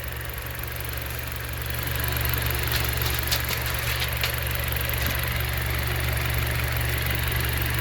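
A steady low car engine idle hums continuously, with faint ticking and a slight rise in level partway through; the engine is leaking oil. No voices.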